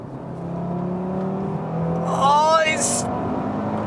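A 2017 Audi RS3 Sportback's five-cylinder engine revs sharply, rising through a fast climb and falling back, loud and close, with someone talking briefly over the low idle.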